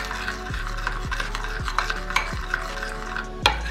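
Jaggery powder stirred into water with a spoon, rhythmic scraping strokes against the vessel about every second, close and alone.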